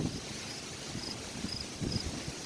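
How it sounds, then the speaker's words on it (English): Steady broadband wind noise buffeting outdoors, with faint high chirps of insects in the background. "Very windy."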